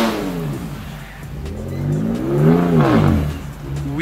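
A Ford Ranger pickup truck's engine revs up and eases back, its rising and falling drone swelling to a loud peak midway before settling, heard alone.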